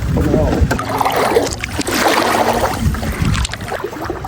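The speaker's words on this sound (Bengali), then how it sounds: "আমার ছোট ভাই আকাশের নৌকা চালাচ্ছে" A small wooden boat rowed along a river by hand, with soft paddle swishes and water lapping close by, all under steady nearby talking.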